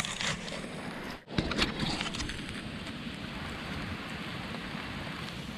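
Steady light rain patters on a mountain trail over a soft outdoor wash, with a brief dropout near the start before the even hiss resumes.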